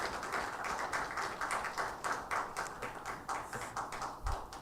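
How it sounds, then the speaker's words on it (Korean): A church congregation claps in thanks for the choir after a hymn at a Sunday worship service, with rhythmic, fairly even hand claps repeating steadily for several seconds. "은혜로운 찬양해 주신 성가대원들에게 감사의 박수 하겠습니다"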